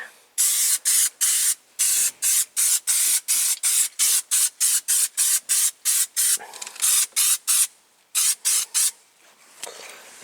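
Spray is applied to the worn, battered dashboard of a 1970 AMC Gremlin, about two dozen short, loud hissing bursts in a quick, uneven rhythm, close by and with no talk over it.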